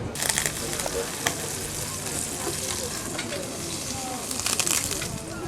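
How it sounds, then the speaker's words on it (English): Butter sizzling steadily in a hot pan during a cooking demonstration, a continuous close crackle with a few sharper pops. "I just love the smell of butter hitting the pan"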